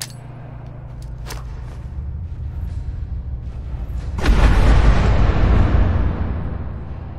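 A gamma grenade goes off in a hardcore survival shooter game, a loud, deep explosion that booms suddenly after a low rumbling lead-in, then rolls and slowly fades over a few seconds.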